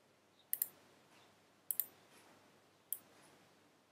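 A computer mouse clicks crisply and close in a quiet room, with four sharp clicks spaced roughly a second apart, some of them double.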